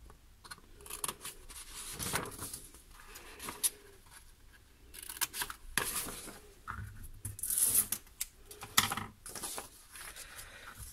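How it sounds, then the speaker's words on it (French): Scissors snip paper at an angle to make glue tabs for a handmade flipbook structure, a string of short crisp cuts and rustles close by, with no talking. "Avec mes ciseaux, je vais venir couper en biais pour faire mes languettes de collage."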